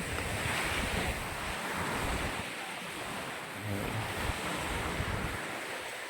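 Surf washes onto a white-sand beach on Malcapuya Island, Coron, Palawan, a soft continuous rush of waves mixed with gusty wind buffeting the microphone, fairly faint overall.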